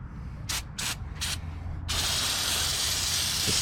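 Three short bursts of spray from a trigger bottle of cleaner hit a car engine bay, followed by a long continuous hissing spray, all close and fairly quiet.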